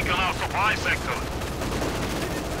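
Machine-gun fire in a WWII strategy video game battle, bursts crackling under a voice at the start and then continuing as a dense rattle.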